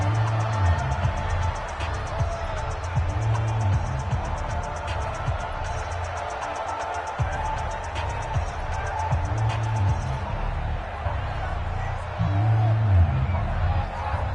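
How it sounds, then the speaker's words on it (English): Stadium crowd in a football video game, a sustained roar of cheering that swells in waves, rising noticeably toward the end, with no clear speech on top. "Listen to this crowd now."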